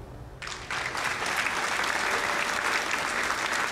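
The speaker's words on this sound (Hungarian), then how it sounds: "Jár a taps a chatnek." A burst of crowd applause starts after a brief pause and continues as steady, dense clapping.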